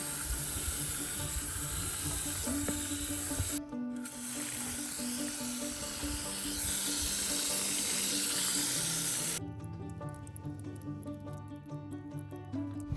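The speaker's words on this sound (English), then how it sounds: "I'm gonna wanna really water this down" Water pours in a steady hissing stream into two 5-gallon buckets planted with Yukon Gold potatoes. The flow is close and continuous, broken by a couple of abrupt cuts, with a faint tonal hum underneath.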